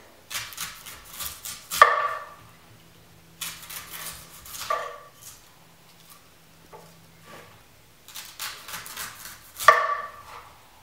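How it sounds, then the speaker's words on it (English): A steel knife strikes and cuts into the top of a young Thai coconut in close, sharp repeated chops, grouped in bursts with quiet gaps between, some with a slight ringing edge. "you could just cut off the top like this"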